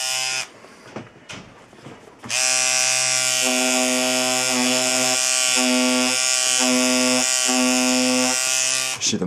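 A Hummingbird rotary tattoo machine motor starts up and runs with a steady, loud electric whine, without bogging down, its tone pulsing slightly in a regular rhythm, after a few brief handling noises.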